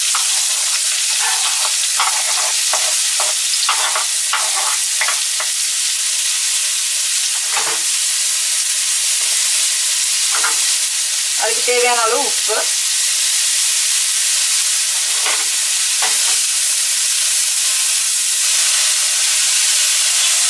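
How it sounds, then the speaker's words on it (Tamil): Onion sizzles and fries in oil in a heavy iron pan, a steady bright hiss with occasional stirring scrapes, close and loud, while a voice speaks intermittently over it. "இந்த வெங்காயம் நல்லா கோல்டன் பிரவுன் ஆகுறது வரைக்கும் அதை நல்லா வதக்கிக்கோங்க"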